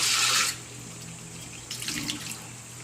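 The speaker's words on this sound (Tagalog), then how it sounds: "lagyan natin ng 2 basong tubig, 2 scoop na tubig." Water splashes into a pot for cooking crab province style, a brief loud hissing pour that stops, then a softer second splash, close and without speech.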